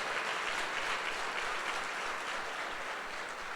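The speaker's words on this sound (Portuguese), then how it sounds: "Pode crer e aplaudir, porque é Deus quem está falando isso." A church congregation applauds during a Sunday service, a dense, steady wash of clapping from many hands that holds evenly for several seconds without talk.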